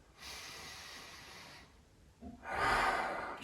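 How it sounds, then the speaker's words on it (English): Two long breaths close to the mic: a slow airy inhale, a short pause, then a fuller, louder breath drawn in and let out. "Just take a big deep breath."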